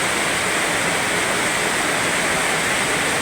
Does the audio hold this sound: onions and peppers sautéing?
no